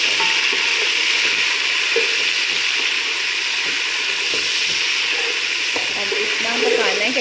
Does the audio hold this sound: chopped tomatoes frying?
yes